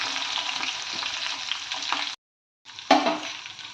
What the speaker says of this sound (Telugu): ఇది మంచిగా ఫ్రై అవ్వాలండి పచ్చిమిర్చి